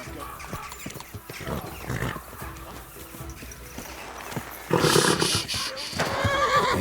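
A horse neighs loudly after hooves clatter and a few voices speak in Kingdom Come: Deliverance II; the whinny is close and shrill, followed by more movement.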